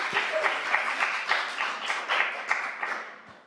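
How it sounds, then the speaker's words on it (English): Short burst of clapping from a handful of people at a council meeting, loose and uneven, fading out after a few seconds. "I usually don't allow clapping"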